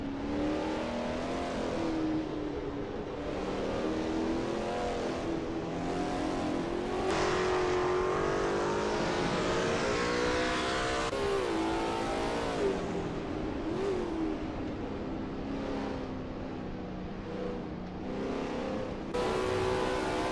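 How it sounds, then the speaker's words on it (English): A Lola T70 MkII Spyder race car in a racing game tears through Eau Rouge at Spa, its engine a loud, steady roar that rises and falls in pitch through gear changes, with no voices over it. "That ASRL T70 MkII Spyder looks good driving through Eau Rouge"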